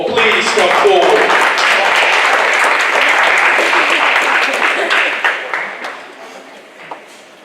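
Applause from an audience at a fatherhood awards ceremony, steady and full for about five seconds before thinning into scattered claps and fading out, with some voices underneath.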